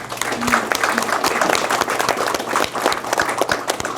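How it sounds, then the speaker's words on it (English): At a school board meeting, a room of people gives a round of applause, full and fairly close, with brief voices mixed into the clapping. "Let's give another round of applause, please."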